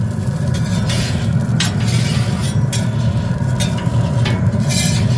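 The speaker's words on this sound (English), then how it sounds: "You can hear it sizzling." A steady hissing sizzle of oil spreading on a hot griddle, with occasional scraping and clinks over a low, constant rumble.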